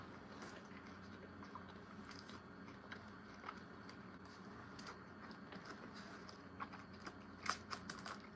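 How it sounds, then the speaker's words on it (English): Crunchy, burnt air-fried chicken is chewed close to the mic, with scattered crisp bites and crackles over a low background hum, louder crunches near the end and no talking. "And it's so burned, so it's so crunchy."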